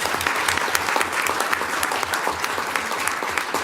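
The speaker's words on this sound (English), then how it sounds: "let's go ahead and give her and Tiffany a round of applause" An audience at a school board meeting applauds two teachers, one of whom presented a chicken science project-based learning project, with dense, steady clapping that holds at an even level throughout.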